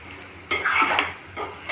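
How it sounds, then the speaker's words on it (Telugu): A spoon scrapes and stirs mutton curry with leafy greens in a hot pan, a couple of close, scraping strokes over a faint sizzle. "ఇలా మధ్య మధ్యలో కలపెడుతూ ఉండాలండి"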